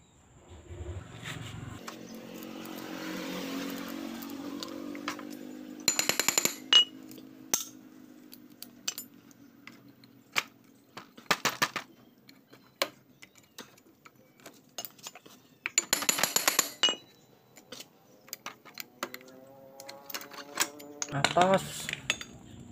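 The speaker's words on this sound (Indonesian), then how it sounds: "Kita buka dulu untuk kampasnya ya, kita cek untuk dalamnya itu gimana." Metal clutch parts of a Honda Supra X125 motorcycle are taken apart, producing scattered sharp clinks and clatters, with a few louder bursts and low background rumble.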